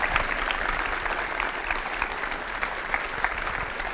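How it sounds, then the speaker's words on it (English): A conference audience applauds after a functional programming talk, dense sustained clapping filling the room at steady loudness for the whole stretch. "Give her a big round of applause."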